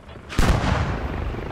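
A tank cannon fires in the Squad video game, a single loud sharp blast followed by a long rumbling decay.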